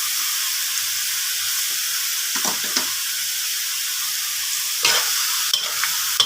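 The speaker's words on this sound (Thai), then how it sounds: "ไม่ต้องไปผัดให้ถั่งอกมันนิ่มนะเอาแค่นี้พอ" Bean sprouts stir-fried with oyster sauce in a pan give a loud, constant hissing sizzle, broken by a few sharp spatula scrapes and clatters near the end, with no talking.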